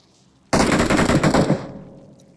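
A loud burst of rapid automatic gunfire from the mobile battle-royale shooter PUPG Mobile, one sustained volley of about a second that then fades out with no talk over it.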